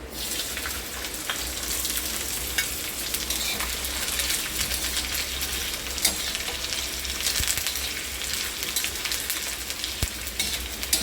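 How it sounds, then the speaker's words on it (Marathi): Pieces of bitter gourd fry in hot oil, a loud, dense, continuous sizzle and crackle held close up for the whole stretch without a break. "तेलामध्ये असे तळून घ्यायचं कारलं हे बघा अशा पद्धतीने आपण कारलं तळून घेणार आहोत"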